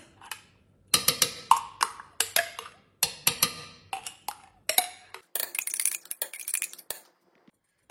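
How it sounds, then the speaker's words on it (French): A spoon repeatedly clinks and scrapes against a glass jar while mayonnaise is emptied into a Thermomix bowl: a close, irregular run of sharp taps, knocks and brief scraping bursts. "je viens vider l'ensemble de mon pot de mayonnaise"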